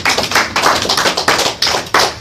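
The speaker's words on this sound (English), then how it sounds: "So give yourselves a round of applause, man." Loud, dense applause from a crowd of parolees gathered for a sermon, continuous through the clip with rhythmic surges of clapping and no talking over it.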